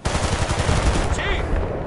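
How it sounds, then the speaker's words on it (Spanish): Rapid machine gun fire in the video game Battlefield Bad Company 2, a dense, loud continuous burst of shots lasting about two seconds. "¡Ametralladora allí!"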